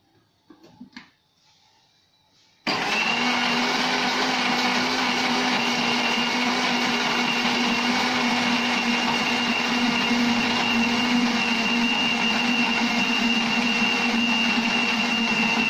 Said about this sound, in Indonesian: Kita masukkan es batu. Ini di blender sampai esnya tidak terdengar.